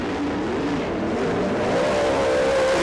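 Race cars roaring around a grassroots dirt track, a steady dense engine drone with a rising pitch toward the end as a car accelerates nearby, continuous and loud with no talk.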